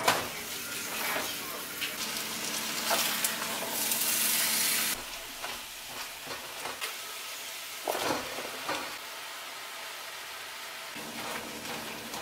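Vegetables stir-frying in olive oil in a worn pan, a steady close sizzle and hiss with bursts of louder spattering and stirring, interrupted by brief quieter gaps.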